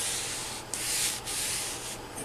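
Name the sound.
scraping end of Bridgeport milling machine column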